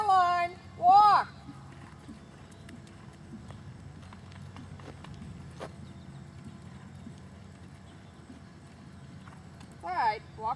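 A horse ridden in a double bridle moves around an arena at walk and canter, with soft rhythmic hoofbeats on the footing throughout, while a trainer's voice calls out instructions at the start and end.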